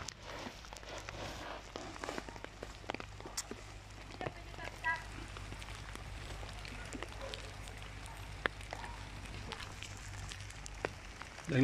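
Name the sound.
rain falling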